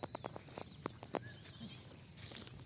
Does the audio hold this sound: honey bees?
no